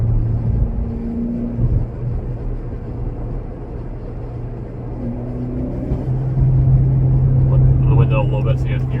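A Mitsubishi Lancer Evo X on Fortune coilovers cruising along with the window slightly open, a steady low engine drone and road rumble with a slight rise in pitch partway through, heard from inside the cabin under someone talking.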